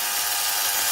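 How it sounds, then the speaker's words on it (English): A drill spins a removed quad engine intake valve during a bent-valve test, giving a steady, loud, high whirring drone that holds unbroken and close throughout, with no talking. "once we get all of them out, we'll do the drill test and see if they're all bent."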